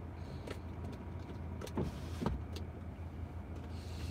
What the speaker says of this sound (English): I'm gonna peek my window down just like this and slip him my license